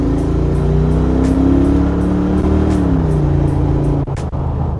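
A Mercedes G-Class engine is revved repeatedly close by, a loud deep rumble climbing and settling in waves, punctuated by sharp popping crackles near the end, with no one speaking.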